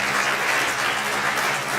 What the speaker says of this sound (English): So I think the teams deserve a little applause for that too.